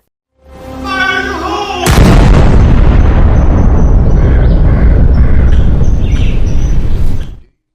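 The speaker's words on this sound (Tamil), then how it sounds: "நான் அந்த இடத்தை வெடிக்க வைக்க போறேன்" A large explosion in a movie scene blows up a place: a sudden booming blast hits loud after a brief tonal lead-in, then a long roaring rumble of debris that holds before cutting off.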